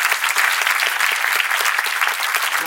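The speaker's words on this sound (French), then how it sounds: "onsieur Stéphane Pontac aussi, c'est la Sud, on peut l'applaudir bien fort." An audience at a live comedy show claps loudly and steadily in a dense, sustained burst of applause.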